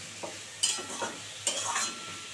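Hilsa fish curry, cooked without water over low gas, is stirred in a pan, giving a few scraping stirs over a soft steady sizzle, close and moderately loud.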